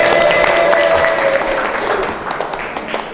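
An audience at a curriculum workshop in an Islamic boarding school breaks into a short, dense round of applause that starts loud and fades over about three seconds.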